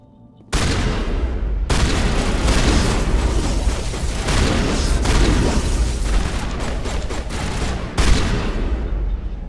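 Tech zombies explode in Mass Effect Legendary Edition, a loud burst of booming blasts and crackling gunfire that starts abruptly and rolls on continuously, with a few sharp cutoffs and renewed hits.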